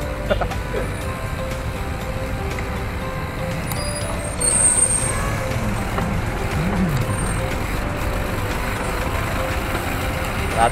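Trucks and other vehicles rumble in slow street traffic in Santo Rosario, a continuous, fairly loud engine drone with faint high beeps, while a voice talks intermittently.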